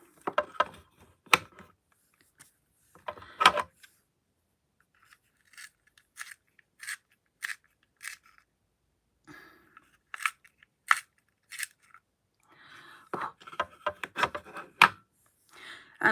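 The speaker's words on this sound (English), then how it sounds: "I'm just going to sharpen this Wayne Goss pencil." A Wayne Goss makeup pencil being sharpened, sparse close crunchy scraping twists in short bursts separated by quiet pauses.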